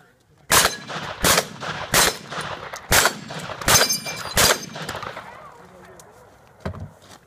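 Pistol shots at a shooting competition: six sharp, loud reports fired in quick succession about a second apart, each with a brief echoing tail, then a quieter stretch with faint background voices and a distant pop.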